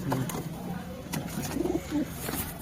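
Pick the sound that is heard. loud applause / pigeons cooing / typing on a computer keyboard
pigeons cooing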